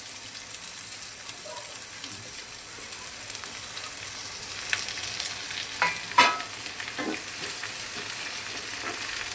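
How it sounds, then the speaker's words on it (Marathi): Onion frying in a pan with cumin and mustard seeds, a soft steady sizzle with a few louder pops and stirring sounds toward the end. "जिरं मोहरी टाकायची आणि नंतर हा कांदा टाकायचा"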